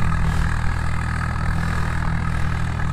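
A Swaraj 744 FE tractor pulling a cultivator under load, its diesel engine running at a steady, loud, low drone with an even throb that holds firm throughout, no voices.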